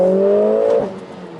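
A 2021 Mercedes-AMG A45 S with a 422 hp engine, a loud steady engine drone holding pitch then easing off and fading within about a second.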